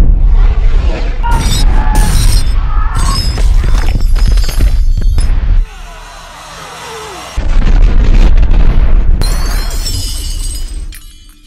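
Bomb explosion in a film, loud crashing, shattering and booming bursts of debris and mechanical clatter, a brief low rumbling lull, then another heavy blast that slowly fades.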